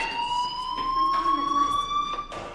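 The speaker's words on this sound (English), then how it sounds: "do you hear that fire alarm? That means you should be outside." Fire alarm ringing in the video game Life is Strange, a continuous high electronic tone held steady throughout, with faint muffled voices and background activity underneath.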